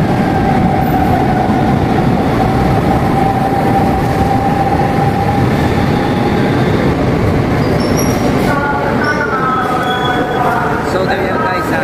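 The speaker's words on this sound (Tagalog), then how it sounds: "So train coming" An LRT light-rail train pulls into Fernando Poe Jr. station with a loud, constant rumble and rail noise, then high squealing wheel tones near the end, with a voice talking under it.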